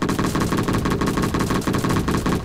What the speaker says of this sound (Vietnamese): Ngày hôm nay mình sẽ chỉ sử dụng cái súng dưa hấu thôi nhá.